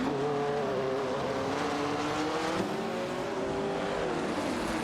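A De Tomaso Pantera GTS 72 and a Ferrari 365 GTB race in a video game, their engines droning and rising in pitch together as they accelerate, with a steady, fairly quiet tone.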